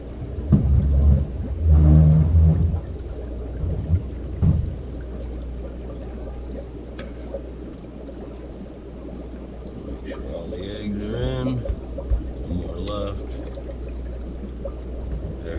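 Water poured into an aquarium egg tumbler in a cichlid tank, starting with a loud splashing gush in the first few seconds, then quieter bubbling and trickling with brief low knocks, with faint voice-like sounds later.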